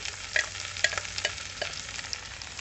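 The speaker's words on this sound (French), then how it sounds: "j'ai mis une petite huile d'olive, j'ai mis quelques oignons, j'ai mis 2 pions d'ail juste écrasés avec un gros couteau plat" Onions and crushed garlic cloves fry in olive oil inside a Dutch oven on a barbecue, a constant close hiss of sizzling broken by light clicks and stirring taps, with no talking.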